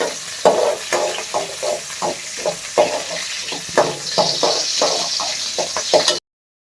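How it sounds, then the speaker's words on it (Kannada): Green chillies frying in a pan: a loud, close crackle and sizzle punctuated by a rapid, irregular series of spatula scrapes and taps against the pan, ending abruptly. "ಇಲ್ಲಿ ಮೆಣಸಿನ್ಕಾಯಿ ಹಾಕ್ಕೊಂಡೆ, ಫ್ರೈ ಮಾಡೋಣ"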